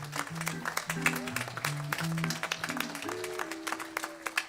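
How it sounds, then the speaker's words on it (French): Light applause from a congregation at an open-air Assumption Day mass in Vendeville, fairly faint and sparse, mixed with a sustained organ or keyboard melody playing underneath. "Et puis j'aimerais aussi qu'on applaudisse un séminariste qui nous rejoint pour 2 semaines, Michael."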